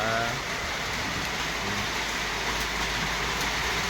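Heavy rain falls steadily in the tropical rainy season, a dense, loud, unbroken hiss of drops on surfaces lasting throughout with no speech.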